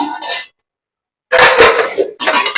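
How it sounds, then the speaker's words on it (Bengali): Washed metal plates and pots set into a basket in a home kitchen, two bursts of clattering and clinking separated by a silent pause, loud and close. "থালা বাসন গুলো ঝাঁপির ভিতরে রেখে দিচ্ছি"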